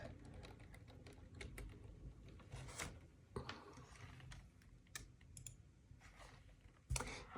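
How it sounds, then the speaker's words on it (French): Keys being struck on a Perkins braille typewriter, a faint, irregular series of mechanical clacks and thumps heard from close by in a quiet room. "machine à écrire braille"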